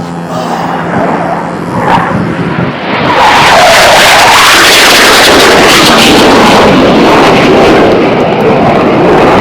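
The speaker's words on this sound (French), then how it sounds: "mais c'était quoi cet avion? Ça m'a éclaté les tympans" A loud, roaring rush of jet noise swells up suddenly and stays overwhelming, broadband and close, as an aircraft passes low overhead.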